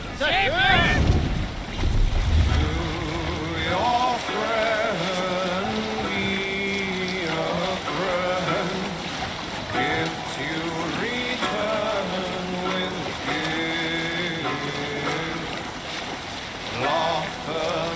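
A sailing ship at sea in the game Assassin's Creed Valhalla, with steady wind and rushing water beneath creaking timber and a loud surge near the start. Voices talk and a musical drone plays throughout.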